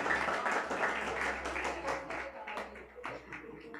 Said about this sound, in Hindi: तालियां बाकर भाई के लिए तालियां।